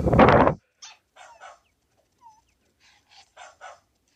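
Puppies barking in the Nintendo DS game Nintendogs, one loud bark followed by a series of short, thin yips and whimpers, close and clean, with no talking.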